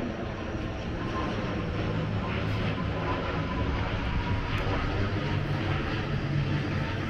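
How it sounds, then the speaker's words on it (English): A low-flying airplane passes over a Stockholm neighborhood on an autumn walk, a loud, broad, steady engine roar filling the whole stretch, with no talking. "An airplane? Yeah, it is."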